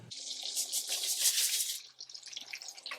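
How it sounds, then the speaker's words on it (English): A hot water tap runs into a kitchen sink, a steady hissing splash that is loud at first, then drops and grows lighter and more broken toward the end. It is close by and heard with no talk over it. "we need to actually get some hot water going"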